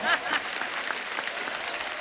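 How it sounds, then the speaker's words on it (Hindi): An audience claps loudly in short, dense applause for a cook at a celebrity interview event, lasting two seconds. "इनके कुक के लिए जोरदार ताली।"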